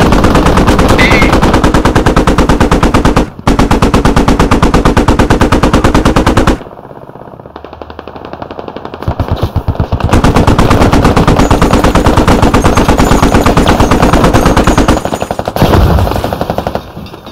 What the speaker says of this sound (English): Shots out of main right to the south of us.